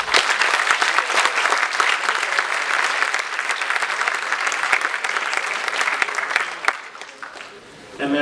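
Sustained audience applause welcoming a speaker at a corporate leadership summit, dense steady clapping for about seven seconds before tapering off near the end.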